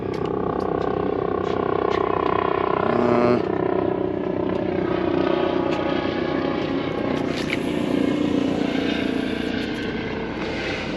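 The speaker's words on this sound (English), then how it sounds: "Helicopter." A helicopter drones steadily overhead on Southampton Water, heard from a small fishing boat as a continuous, fairly loud rotor-and-engine hum lasting throughout.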